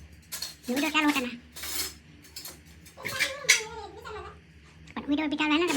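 Steel dishes, pots and pans clink and clatter at a home sink during household cleaning, scattered metallic knocks and scrapes mixed in with close-up talk and a little laughter.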